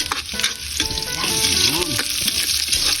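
Garlic and onion sautéing in hot oil in a pan, a loud, close, crackling sizzle that builds and holds steady, with a faint voice partly audible underneath.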